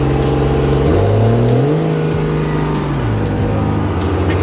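Loud 24-valve Cummins diesel truck engine droning steadily while driving, with gear changes shifting the pitch of the roar partway through and no voices.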